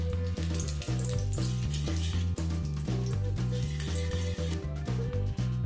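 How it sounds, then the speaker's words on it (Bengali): Bay leaf, cardamom and a cinnamon stick sizzle in hot mustard oil, a soft continuous frying hiss sitting under loud rhythmic background music. "তেল গরম হয়ে গেলে এর মধ্যে একটা তেজপাতা, একটা মুখ ফাটানো ছোট এলাচ আর একটা দারচিনি স্টিক দিয়ে দেব।"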